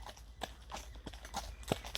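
Horse hooves clip-clop in a slow, uneven series of sharp knocks at a stable, fairly close and moderately loud over a low background rumble, with no talk.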